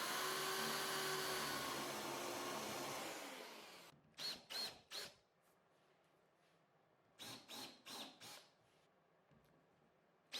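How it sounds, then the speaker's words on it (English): A power drill boring a snug through hole in wood to serve as a hinge whines loudly for several seconds, then winds down, followed by a few short, quieter bursts of drilling. "I drill one through hole to be a snug fit to act as a hinge"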